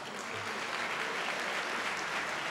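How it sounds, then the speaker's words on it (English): Gala night audience applauding at an anniversary celebration, a dense, steady wash of clapping from a large crowd that fills the whole moment without a break. "Ladies and gentlemen, one more round of applause,"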